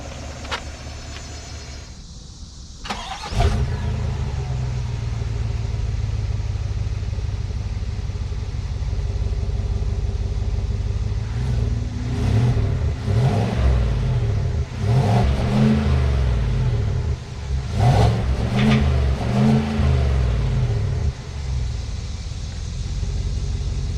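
A 2021 Chevrolet Tahoe High Country with a 6.2L V8 and 10-speed automatic starts and settles into a loud, deep idle, then revs repeatedly in swelling bursts, close and rumbling.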